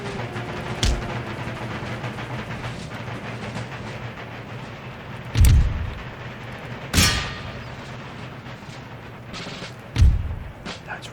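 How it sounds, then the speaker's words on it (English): Artillery and musket fire in the video game Empire: Total War, four heavy booms spaced several seconds apart over a constant rumbling battlefield din, with voices faintly underneath. "Let's give them a barrage"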